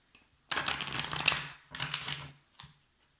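Oracle cards are shuffled by hand in a few quick papery riffles, two longer bursts followed by a short final flick, close and crisp against quiet surroundings.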